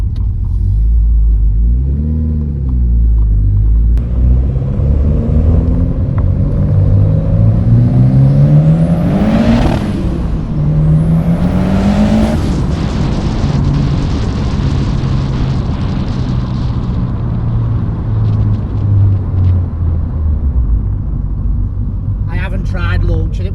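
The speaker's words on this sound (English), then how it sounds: "let's get the car started" A 480 BHP Ford Escort Cosworth engine idles, then revs hard in rising and falling sweeps and pulls away, loud and close, with a roaring exhaust and a person talking over parts of it.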